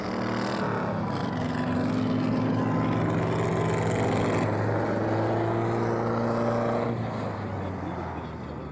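Classic cars and motorcycles race along a beach in Denmark, engines droning loudly and steadily with rising and falling harmonic tones as machines pass, continuous throughout.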